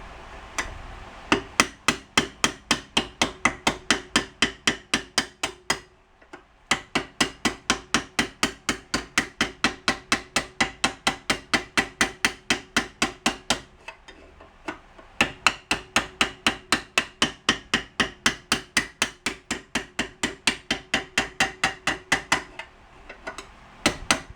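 Honda CB350 front fork tube clamped in a vise is struck by a hammer in a fast, steady run of sharp metallic blows, with a few brief pauses between bursts, close and loud.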